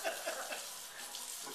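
Hot water runs from a kitchen tap into a sink while a dog's food is prepared, a steady close splashing hiss lasting throughout, with no talk.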